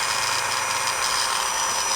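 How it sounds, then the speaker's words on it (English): Power drill on its slowest setting boring into a plastic part of a Trumpeter 1/200 Scharnhorst ship model, a steady loud motor whir with constant high-pitched noise and no pauses. "it's better to use a power drill. So I've got it on its slowest setting, so we're not going to have problems with melting plastic."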